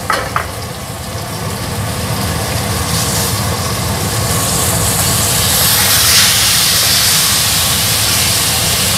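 Steady, loud sizzling of fish frying in hot oil, a dense crackling hiss that continues without pause, with no talking.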